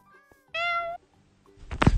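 A cat in the Minecraft video game gives one clear, close meow after a brief quieter chirp, followed by a dull knocking thump.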